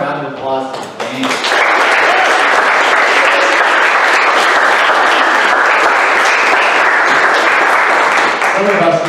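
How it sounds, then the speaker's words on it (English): Sustained audience applause for a band, rising after a brief stretch of speech at the start and then holding loud and dense, with many hands clapping in a large crowd. "Let's give one more round of applause to the band."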